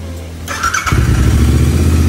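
A Royal Enfield Interceptor 650 motorcycle starting, a brief whirring crank that catches into a loud, steady low idle rumble, close up.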